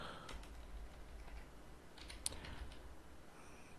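Soft, quiet keystrokes patter irregularly on a computer keyboard as C# code is typed, with one sharper click partway through.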